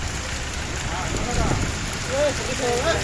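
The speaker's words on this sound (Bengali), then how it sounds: "ঢাকা রামপুরা বৃষ্টি হইতেছে" Heavy rain pours steadily onto a flooded street in Rampura, Dhaka, during a gusty storm, making a dense, loud, constant hiss with faint tonal sounds from passing traffic.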